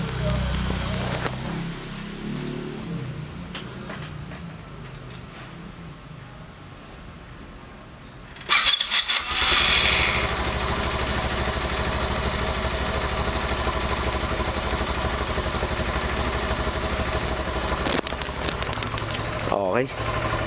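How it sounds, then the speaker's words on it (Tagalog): A Rusi Passion 125 motorcycle engine catches abruptly and settles into a steady, close idle, following a quieter stretch with faint background noise. "papaandarin ko muna yung makina"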